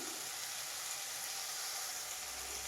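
Ground masala frying with capsicum and peas in a pan, giving a steady, even sizzle and hiss, close and without talk.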